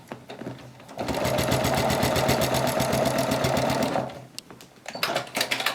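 A sewing machine stitches quilt binding in a close, rapid mechanical chatter that runs steadily for about three seconds, stops briefly, then resumes in short bursts.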